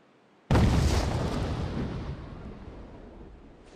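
Detonated explosive charge in Devil's Third: a single sudden loud blast after a quiet moment, followed by a long rumbling roar that slowly fades over several seconds.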